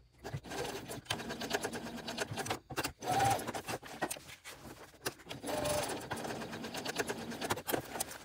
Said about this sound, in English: And then basting at the top here with 2 rows of stitches to keep that foam pocket in place.